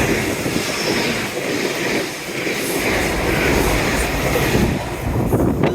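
A train runs along the seawall railway at Teignmouth below Sprey Point, a loud steady rumbling roar with wheel and wind noise that holds throughout and passes close by.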